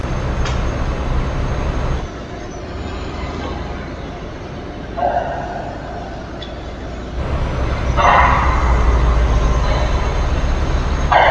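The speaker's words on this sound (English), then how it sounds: "Freight train." Freight train passing in Euro Truck Simulator 2 while driving through Switzerland: a loud, continuous rumble of rail wagons rolling by, rising and swelling toward the end under steady engine noise, with no talking.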